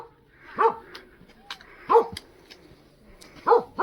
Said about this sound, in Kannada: ಅಷ್ಟು ಟೈಮು ಈ 5 ದಿವಸಕ್ಕೆ ಭೂತಾನಲ್ಲಿ ಬೊಗಳೋದು ಕೇಳಿಸ್ಕೊತಾ ಇರೋದು ನಾಯಿ.